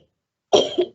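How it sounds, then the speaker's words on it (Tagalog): A single short, sharp cough close to the microphone after a moment of silence. "Sorry, ubo na si ma'am"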